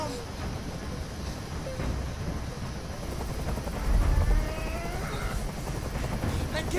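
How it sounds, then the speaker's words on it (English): A helicopter drones overhead in the video game Detroit: Become Human, a loud continuous rotor rumble with a heavy low thump near the middle, under voices talking. "I can't stand that noise anymore. Tell that helicopter to get out of here."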